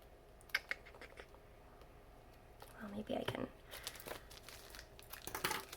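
A Paper Pumpkin craft kit box is cut open, with faint scattered crinkling, tearing and snipping of packaging that grows busier toward the end, and a voice speaks briefly in the middle.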